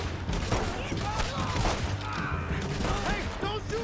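Video game gunfire crackles in dense, overlapping volleys throughout, mixed with shouting voices and galloping commotion, loud and busy with no quiet gaps.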